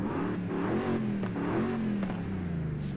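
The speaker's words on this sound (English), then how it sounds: "It's a high idling V8." A Toyota Tundra TRD Pro 6.7L V8 truck engine running at a high idle with slight revving swells, a steady low rumble throughout and no voices.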